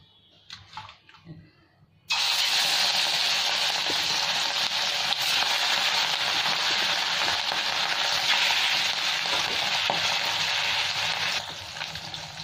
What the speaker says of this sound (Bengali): আর এখানে তেলও গরম হয়ে গেছে খুব। এবার আমি মাছগুলো তুলে দেবো।